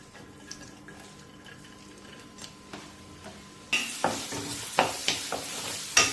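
Onions drop into hot coconut oil in a pan and burst into loud, steady sizzling after a quiet stretch, with several sharp stirring scrapes and clicks on top of the frying.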